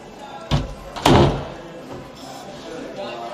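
A door is flung open in a house, giving a muffled bump followed by a louder slam-like thud, with faint room noise around it.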